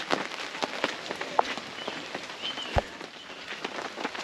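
Rain pattering on a Vango Galli III AirBeam drive-away camping awning outdoors, with irregular drops and a few sharper close taps over a steady soft hiss.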